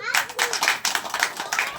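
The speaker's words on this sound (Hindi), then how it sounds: "सभी दीदियों ने सरकार को ताली बजाकर स्वागत किया" A group of women at a village self-help meeting clap in a quick, uneven burst of about a dozen close hand claps, with voices chattering underneath.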